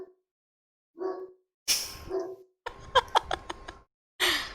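Dogs bark in several sharp, close bursts separated by short silences, with a quick run of yipping barks in the middle.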